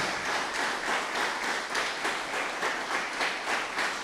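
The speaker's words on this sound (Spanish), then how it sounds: "Dale un aplauso al Señor" A church congregation claps together in a fast, pulsing rhythm of unison beats that repeats steadily and loudly throughout the short stretch.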